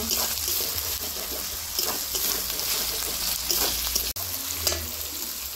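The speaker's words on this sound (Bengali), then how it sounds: "এই সব কিছু দিয়ে আমি ভালো করে মশলাগুলোকে ভাজা ভাজা করে নেব।" Spices and chopped tomato fry in a pan for a mixed vegetable curry, a steady close sizzle with occasional stirring scrapes running through the whole stretch and one brief dropout near the end.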